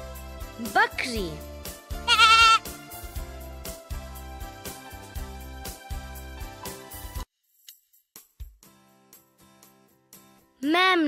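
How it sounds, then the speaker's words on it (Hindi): A goat bleats in a few short, wavering bursts over background music, one call early, another around two seconds in, and a final louder bleat at the end after a quiet stretch. "बकरी"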